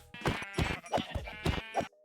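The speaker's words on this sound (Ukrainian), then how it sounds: "Є вівці неподалік, і це добре." Sheep bleating in a Minecraft survival game, five short wavering bleats in a quick irregular series, close and clear with no talk.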